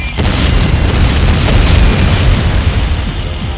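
A projectile explodes in the video game Jak II, a loud, sustained rumbling boom with crackling debris that fills the whole moment and fades slightly at the end.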